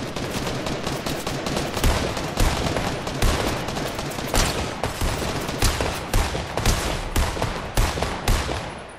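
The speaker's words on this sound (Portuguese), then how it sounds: "Tá em mim o tiro" Gunfire in a Fortnite match: loud, continuous bursts of rapid shots with repeated sharp cracks for the whole stretch and no voice over them.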